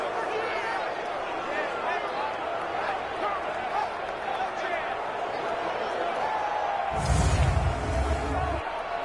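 A stadium crowd in Madden NFL 20 football, Cowboys at Redskins, roars steadily behind an announcer's play-by-play commentary, swelling louder near the end ahead of a big third down.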